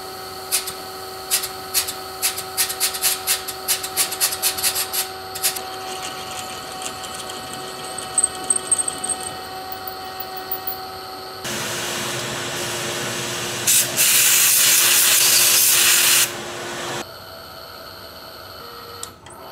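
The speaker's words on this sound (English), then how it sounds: "now I just got to get in the helicoil kit and get the right drill bit and the tap" A power drill whines for several seconds, drilling a bolt hole for a helicoil in a Ford FE cylinder head, preceded by a run of quick clicks over a steady mechanical hum. No one speaks.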